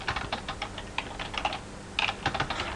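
Bursts of quick, close clicking come from typing on a computer keyboard, with short pauses between runs of keystrokes and no talking.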